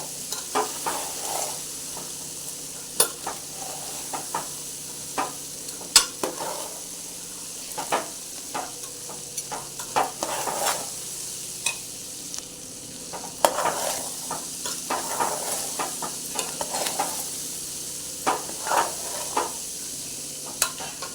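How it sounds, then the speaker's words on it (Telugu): Chickpeas fry in a pan until dry, with a steady sizzle and hiss under frequent sharp scraping and clinking as a spatula stirs them, close and continuous, with no talking. "నీళ్ళ తడి ఏం లేకుండా అయ్యేదాక ఫ్రై చేసుకోవాలి శనగలు"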